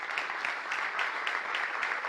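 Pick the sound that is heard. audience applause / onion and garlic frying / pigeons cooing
audience applause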